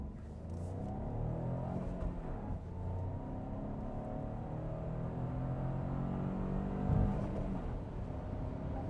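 A 2017 Citroën C3 Aircross accelerates from 0 to 100 km/h, its engine drone steady and muffled inside the cabin, rising gradually with a low rumble and no talk.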